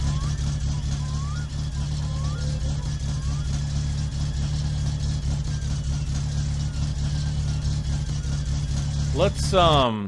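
A car engine runs in the driving game My Summer Car, holding a steady, droning idle that fills the whole stretch without a break.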